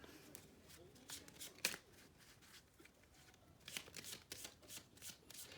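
A deck of cards being shuffled, with quiet, close riffling and flicking in several short bursts, one sharp snap near the start and a busier spell toward the end, with faint speech in the background.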